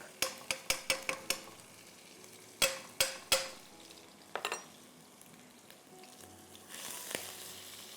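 Garlic fries in a couple of tablespoons of oil in a pan with a soft, steady sizzle, broken by a series of sharp utensil clacks against the pan and a few scraping stirs.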